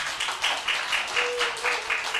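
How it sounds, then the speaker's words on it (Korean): Applause from a church congregation during a Friday night service, a dense crowd of clapping holding steady with slight pulsing swells throughout. "예, 박수."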